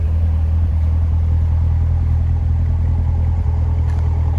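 A 2017 Corvette Grand Sport 2LT with a 7-speed shows a steady, deep exhaust rumble at idle. It sits close and constant through the whole stretch, with no talk over it.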